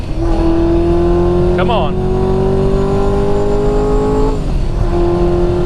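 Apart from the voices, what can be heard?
Hennessey Exorcist car revving and spinning its tires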